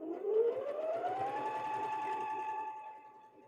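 FYIYUE sewing machine running steadily while sewing cross stitches, a close, fairly quiet rapid whir that rises in pitch at the start and then holds even before fading.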